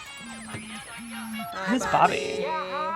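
A phone rings with a repeating electronic ringtone in an animated movie, the tones sounding in short bursts while voices talk over the second half.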